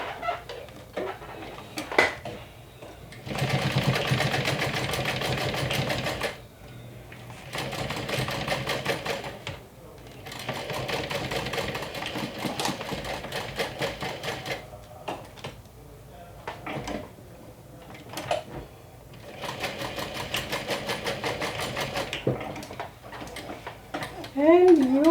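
A sewing machine stitches fabric for a saddle bag in several runs of steady whirring, separated by pauses with handling clatter, and a voice speaks between them.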